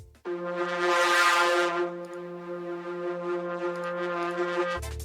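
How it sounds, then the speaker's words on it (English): A Dune 3 synth preset plays a sustained chord whose filter cutoff sweeps open and then settles, brightening sharply early and staying rich and steady for several seconds before cutting off. "So then next I added another preset in Dune 3 with an automation clip on the cutoff."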